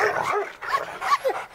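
A dog barks and yips in a TV studio, several short sharp barks with whimpery rises, fairly close and loud, no talk over them.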